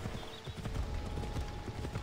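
Rapid hoofbeats of a galloping horse in Assassin's Creed Odyssey pound steadily throughout, loud and close, with a busy game soundscape behind them.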